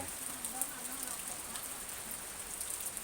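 Steady rain falling at a house beside a canal in Nakhon Pathom, a soft, even hiss with scattered faint drips, quiet and continuous.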